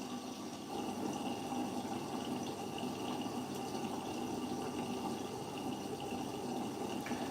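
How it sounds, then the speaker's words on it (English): A Siemens WG46H2AXGB washing machine filling with water for a rinse through the i-Dos compartment on a 90° cottons boil wash, a steady rushing flow with a low hum, continuous and even. "So this time it's filling through the IDOS compartment, so you get the front fill."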